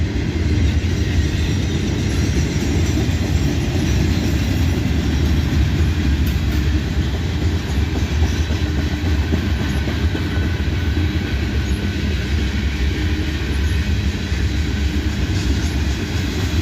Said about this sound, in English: Got manifest train working its way north.